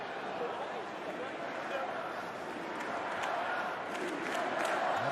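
Stadium crowd at an Australia versus Uganda rugby sevens match at the 2022 Commonwealth Games, a broad roaring wash of cheering and shouting that builds slightly toward the end, with a commentator's voice over it.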